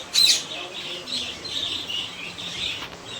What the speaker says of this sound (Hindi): बड़े प्यारे प्यारे तोते हैं यहाँ पे,